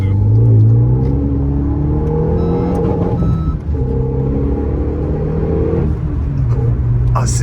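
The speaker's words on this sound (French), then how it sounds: "on est sur un moteur, du coup, un 2 litres, 4 cylindres, de 275 chevaux" Renault Megane 3 RS with a 2-litre four-cylinder engine of 275 horsepower accelerating hard from inside the car, a loud sustained engine drone that rises in pitch, drops briefly at a gear change and climbs again.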